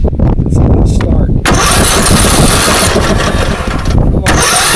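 A Briggs ELS500 small engine, freshly valve-adjusted, cranks briefly then catches and runs loudly and steadily for several seconds in a shop, close to the mic.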